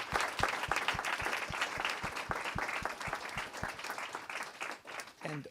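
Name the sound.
audience applause for speakers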